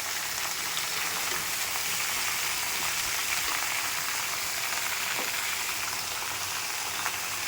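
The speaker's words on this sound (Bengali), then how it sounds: "আম দিয়ে দিয়েছি তেলের মধ্যে। এখন একটু সময় নাড়তে হবে।" Mango pieces frying in hot oil for pickle, a dense, even crackling sizzle like rain on a surface that holds steady throughout, with faint stirring movements underneath.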